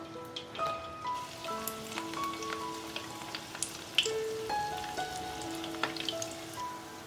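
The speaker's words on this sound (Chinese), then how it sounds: "油温2、3层热的时候放下去炸，调小火哦。" Shrimp rolls deep-fry in oil over low heat, a faint, soft crackle and sizzle with scattered pops under quiet tonal music.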